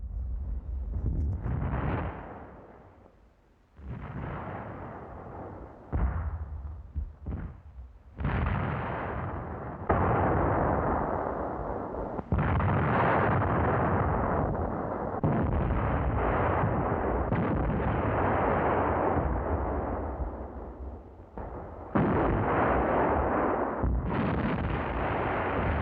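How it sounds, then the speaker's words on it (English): Heavy field howitzers firing in repeated loud, booming blasts at irregular intervals, each report rolling out into a long rumbling tail, with almost no quiet between shots. "Heavy field howitzers."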